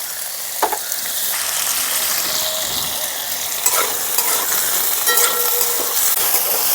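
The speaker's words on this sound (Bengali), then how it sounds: "এখন কেটে রাখা আলুগুলো দিয়ে দিচ্ছি। একটু নাড়াচাড়া করে নিলাম।" Cut potatoes fry and are stirred in a pan, a constant loud sizzle close by with occasional scraping and knocks of the spatula.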